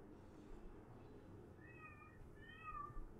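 A cat meows in short rising calls over steady low background noise, during a Space Engineers game session, with a few meows spaced across the stretch.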